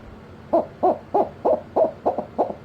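A Brute Hoot Owl Call blown lightly gives seven soft, evenly spaced hoots in a steady rhythm, close and clear, a man-made imitation of an owl's hooting with no talk.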